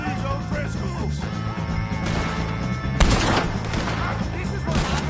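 Gunshots in Red Dead Redemption 2 during a shootout with O'Driscolls, with a loud, sharp crack standing out among dense game noise, rumbling action and voices.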